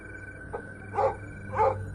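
A dog barks twice, muffled and fairly distant, over a low steady background hum.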